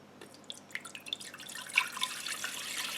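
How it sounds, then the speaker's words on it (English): Tap water splashes and trickles into the pot of a Ninja Foodi PossibleCooker PRO being filled for sous vide cooking, irregular close drips building into a steady pouring wash. "So we're gonna fill the water up to here."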